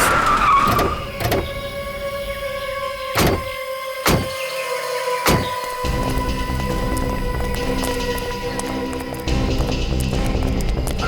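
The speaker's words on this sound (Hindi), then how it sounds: "ठीक है, गाड़ी यहीं रोक" A car drives on a road in a forest, engine and road noise running steadily throughout, with several sharp thunks such as doors or braking knocks as it comes to a stop.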